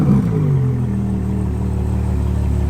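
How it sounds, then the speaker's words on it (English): A Ferrari's naturally aspirated V12 engine runs loud and close, a dense, steady mechanical roar that surges briefly at the start and then holds an even, throbbing pitch. "Naturally aspirated V12."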